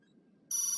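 A phone message notification rings out suddenly, a bright sustained electronic tone starting halfway through after near silence, close and clear.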